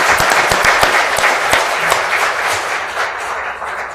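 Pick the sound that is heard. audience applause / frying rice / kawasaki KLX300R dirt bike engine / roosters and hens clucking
audience applause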